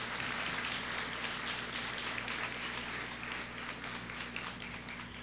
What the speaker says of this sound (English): Give them a round of applause for their work and efforts